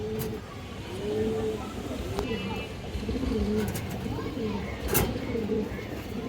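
A large pigeon of a good breed at a market coos repeatedly in soft, rolling phrases close by, with other birds, faint voices and passing traffic behind.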